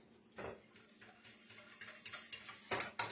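A spoon works through thick mac and cheese sauce in a pan with soft, uneven scraping and stirring, and louder clanks of metal on the pan near the start and end, with no one speaking.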